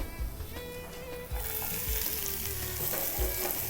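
Onion with chopped garlic and ginger sautés in a pan, a steady soft sizzle with occasional scrapes as it is stirred. Faint background music plays underneath and no one speaks.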